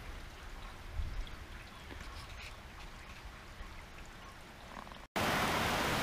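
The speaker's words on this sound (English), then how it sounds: "So, our daily rainstorm. So this one's really pounding us this time." Heavy rain pours steadily, a dense continuous hiss of drops hitting surfaces, loud and close, with a sudden louder burst near the end.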